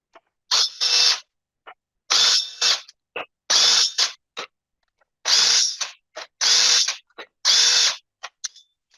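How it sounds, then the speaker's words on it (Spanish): A power tool, likely a drill or impact driver, removes screws from a Hyundai Kia A6 automatic transmission pump. It runs in several short, loud, whirring bursts, each about half a second long, separated by silences and small clicks. "Ahora vamos a quitar todos los tornillos"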